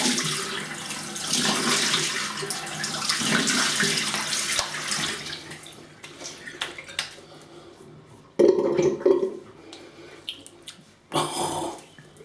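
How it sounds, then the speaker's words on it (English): Tap water runs and splashes in a sink while a razor is rinsed during a wet shave with a vintage Gillette Super Speed, with a few clinks of metal against porcelain, no talking. "Right, let me rinse."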